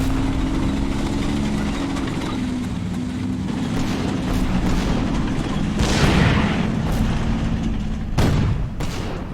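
Artillery fire in the Combat Mission Rome to Victory war game, a deep booming shot rising out of a steady engine-like rumble, with a second sharp blast near the end.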